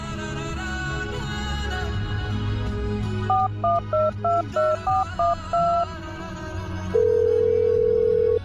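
A telephone keypad taps out a quick run of about ten dual-tone dialing beeps over steady background music, then a long, steady line tone sounds.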